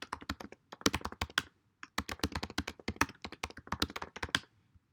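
Quick typing on a computer keyboard, close and fairly quiet, in two bursts of rapid key taps separated by a short pause, no voices.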